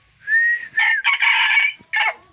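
A rooster crows loudly and close by, one long drawn-out call broken into several bursts.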